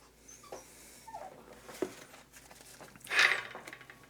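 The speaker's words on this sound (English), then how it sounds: "Sorry about my puppy crying in the background." A puppy whimpers and whines softly in short, high cries, with one louder squeal near the end over a quiet kitchen room.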